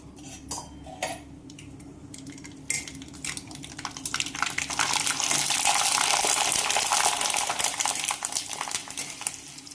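Chickpea and moong dal papad dropped into hot oil, a sharp hiss and bubbling fry swelling up after a few clinks and taps, then sustained loud crackling sizzle close by with no talking.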